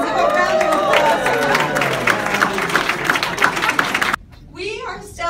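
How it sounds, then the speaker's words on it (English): An audience at a New Haven arts festival party applauds and cheers to welcome a theatre cast, a loud crowd roar lasting about four seconds before cutting to a brief spoken voice. "So a round of applause."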